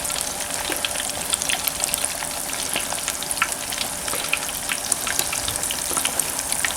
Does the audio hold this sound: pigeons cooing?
no